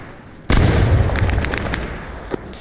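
A frag grenade in the Arma 3 military game goes off with a sudden loud blast, then a rumbling roar that slowly fades, with a couple of sharp cracks after it.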